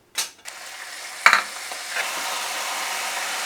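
A sudden hiss and crackle of tempering spices dropped into hot oil, then a steady sizzle continuing, with a brief clatter near the start.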